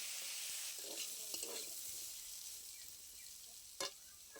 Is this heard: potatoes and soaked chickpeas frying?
yes